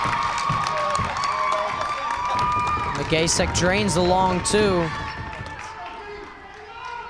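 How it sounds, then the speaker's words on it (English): A West Milford crowd roars and cheers at a girls basketball state playoff game against Wayne Hills, loud and sustained, with a commentator talking over the noise. "The West Milford crowd here fired up"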